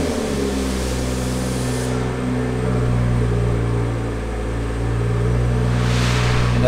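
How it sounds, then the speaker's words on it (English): A BMW car engine idling after a push-button start, a steady low hum with constant tonal drone held throughout, close and even in loudness, no voices. "Car starts right up."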